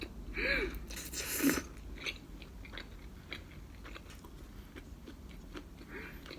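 Close, quiet chewing and biting of garlic scape, shrimp and anchovy pasta, with a couple of louder crunchy bites early on, then soft, intermittent chewing sounds.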